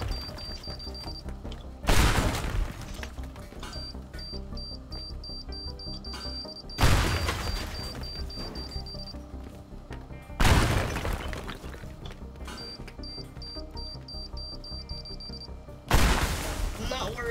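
Bombs exploding in the Teardown destructible-voxel game, four loud booming blasts spaced a few seconds apart, each trailing off in crumbling debris, with a ticking beep between them.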